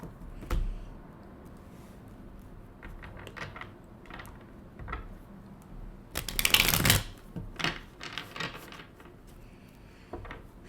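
A deck of playing cards being shuffled, with uneven riffles and clattering bursts, including a louder flurry near the middle, close and alone over quiet room background.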